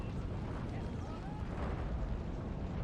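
Cannon fire in the Empire: Total War strategy video game, a continuous rumbling wash of booming battle noise with faint voices beneath, steady and fairly loud throughout.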